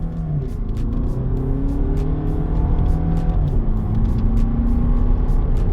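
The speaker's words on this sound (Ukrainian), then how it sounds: "Спробуємо зараз, як вона поїде від нуля до сотні." A 2020 VW Passat B8 with a 2.0 diesel engine and automatic gearbox accelerates hard from standstill toward 100 km/h, a steady interior drone with rising engine tones and shifting gears over constant road rumble, no talking.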